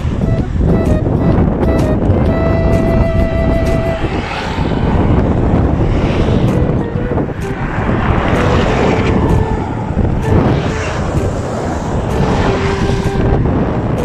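Steady wind roars and buffets across the microphone while cycling in Cabangan, Zambales, mixed with a rushing road-like drone and a few faint tonal whines.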